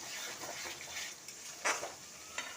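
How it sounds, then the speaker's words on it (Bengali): Egg and chicken with a little soy sauce being stirred in a pan, soft sizzling under a few light scrapes and clinks of the utensil against the pan, fairly faint. "এবার এতে দিলাম অল্প একটু সোয়া সস দিয়ে ভালোভাবে নেড়ে"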